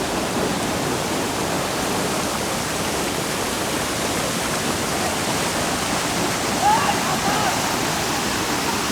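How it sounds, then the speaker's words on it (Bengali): The Shoilopropat waterfall near Bandarban, swollen by heavy rain, roars as a loud, continuous broadband rush of falling water, steady throughout and heard up close. "প্রচুর বৃষ্টি থাকার কারণে দেখেন প্রচুর পানি হয়েছে এই ঝর্ণাতে"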